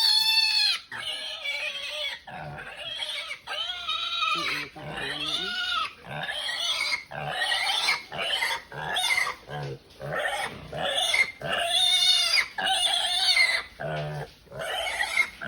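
A sick, paralyzed pig cries and squeals loudly in repeated, drawn-out bursts with short pauses between them, close to the listener.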